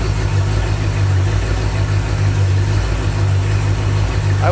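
A rebuilt small-block Ford V8 engine idles steadily with a low, even rumble that holds throughout, close and fairly loud, with no voices.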